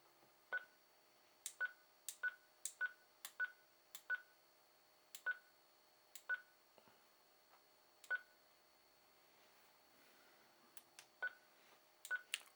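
A Kydera CDR-300UV radio plays a run of short, sharp DTMF keypad beeps during manual dialing. The tones come one after another at an uneven pace, with pauses of varying length, in a quiet room.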